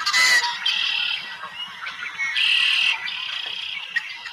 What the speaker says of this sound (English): sorry, blackbird.